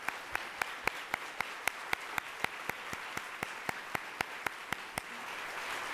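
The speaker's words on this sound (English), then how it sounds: "Let's give them all a round of applause." An audience applauds panelists at a Columbus Metropolitan Club forum; a single crisp clap repeats in even rhythm over a steady wash of crowd clapping, close and continuous.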